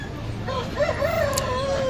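Chickens, including an old hen, at a busy village livestock market (haat) in Rohini, Kharagpur, with a rooster's drawn-out call rising and falling over background crowd murmur and clucking, close and fairly loud.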